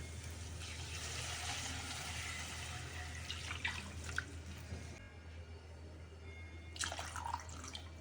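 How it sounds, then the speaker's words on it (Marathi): Water pours from a bowl into a pan of gram flour in a steady splashing stream for several seconds, stops briefly, then a second short pour splashes in, over a low background hum. "दुसरी वाटी टाकत आहोत आपण आता एक दोन वाट्या पाणी टाकलं"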